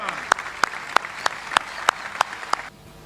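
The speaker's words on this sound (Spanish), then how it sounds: "¡Fuerte el aplauso!" A crowd at the outdoor beatification ceremony of Fray Mamerto Esquiú in Piedra Blanca, Catamarca, Argentina, claps in unison: about eight sharp, evenly spaced claps, then it stops abruptly.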